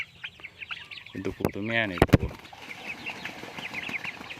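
Chickens on a backyard farm kept alongside ducks and geese cluck repeatedly close by, with one loud drawn-out harmonic call like a crow in the middle, while someone talks over the birds.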